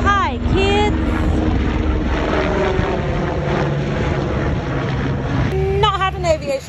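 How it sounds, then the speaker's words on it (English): A helicopter flies over a farm, its engine and rotor noise a steady, loud drone throughout. Someone speaks over it near the start and end. "There's a crazy helicopter flying over the farm."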